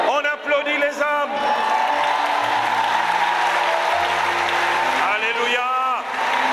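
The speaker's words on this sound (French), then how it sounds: "On applaudit les hommes." A church congregation applauds men standing in the assembly, a broad steady wash of clapping running throughout, with voices and shouts rising above it near the start and again toward the end.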